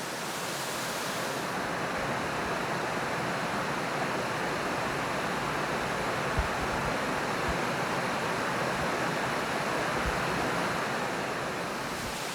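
Waterfall in north-west Tasmania, a steady, broad rushing roar of falling water that stays constant and fairly loud throughout, with occasional faint low thumps beneath and no voices.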